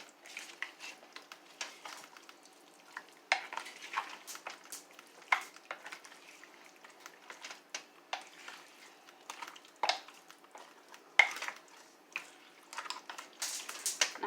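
Ramen chicken casserole ingredients are stirred together in a crock pot, giving soft, irregular wet squishing and scraping sounds that come close up in uneven bursts, with no talking.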